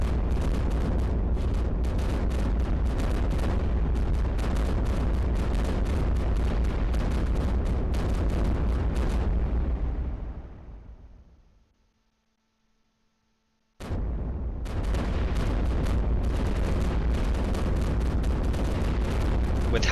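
Sustained, dense booming weapon fire from the iBomber Defense video game, with loud continuous rumbling blasts that fade into near silence, then cut back in abruptly at full intensity.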